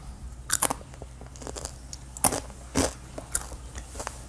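Sharp, dry crunches from biting into crispy homemade air-fried french fries, several bites and chews close up with short pauses between them.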